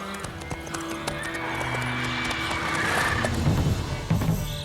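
Roach the horse from The Witcher 3 video game neighs and whinnies over a steady clip-clop of hooves, close and fairly loud throughout.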